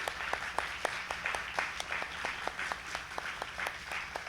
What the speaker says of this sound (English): let's go ahead and give them another round of applause for their dedication to the music